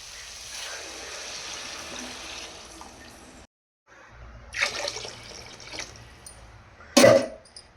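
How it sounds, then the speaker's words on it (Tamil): Water splashes and pours steadily into a cooking pot for veg biryani for a few seconds, pauses, then resumes in uneven gushes, ending with a short sharp clatter. "தண்ணி ஊற்றியாச்சுங்க."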